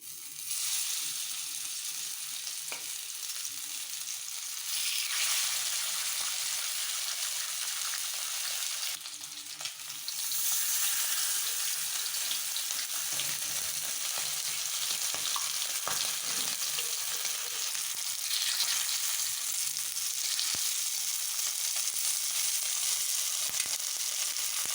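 Pieces of fish fry in oil in a pan for meen varuval, a loud continuous sizzle with crackling spatter that briefly dips and then returns with fresh hissing and occasional pops.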